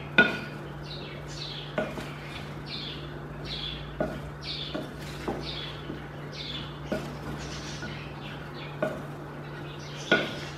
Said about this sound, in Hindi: सबको अच्छे से मिक्स कर देंगे।